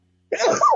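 A single sharp sneeze bursts out close by after a moment of silence, loud and abrupt with a breathy, noisy burst.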